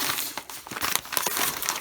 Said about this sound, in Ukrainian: Запаковано непогано в пакетику з пупиркою всередині може бути